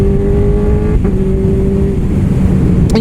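A Honda CB1000R motorcycle fitted with an Akrapovic exhaust accelerating in second gear, a loud, close, steady engine drone rising in pitch with a brief shift-like break around the middle.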